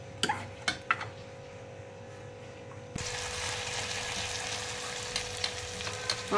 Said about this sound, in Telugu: వీటిల్ని కూడా తీసి ఈ క్యారెట్ ముక్కలు ఇది అంతా కలిపి ఇందులో వేసేద్దాం